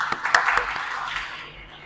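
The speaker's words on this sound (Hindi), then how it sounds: "जो सामने बैठे हैं, तालियां।" An audience at a university lecture breaks into a short burst of clapping that swells quickly and then fades away over about two seconds.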